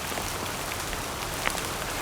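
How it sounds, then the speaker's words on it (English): Heavy rain pours down in a dense, hissing wash of countless drops hitting surfaces, steady and close, with no voices. "It's a downpour."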